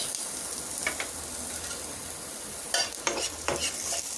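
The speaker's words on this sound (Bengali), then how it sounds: "প্যানের মধ্যে দিয়ে দিচ্ছি তেল দিয়ে দিচ্ছি পেঁয়াজ" Onions sizzling in a little oil in a pan on a stove, a steady low frying hiss with a few sharper scraping stir bursts later on, close and alone.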